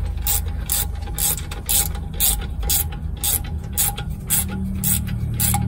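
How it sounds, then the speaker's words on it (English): A ratcheting wrench clicks in a steady, rapid rhythm of about a dozen evenly spaced bursts while someone works on a GM PD-4104 bus, close and fairly loud, with no talking. "Ratcheting wrenches come in really handy for certain jobs."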